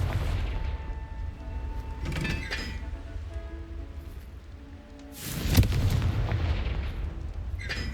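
In Hogwarts Legacy, the Confringo spell fires, with scattered cracks and then a loud explosive burst about two-thirds through, over a constant low rumbling game background.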